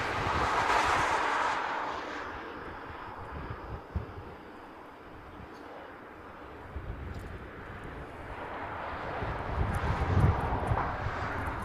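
Aircraft circling an airfield in Hawaii before landing, a broad steady engine roar swelling and fading across the whole stretch, fairly distant, with no talk over it.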